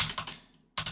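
Keystrokes tapped on a computer keyboard while working in Windows: a quick burst of close clicks, a brief pause, then another sharp pair of keypresses.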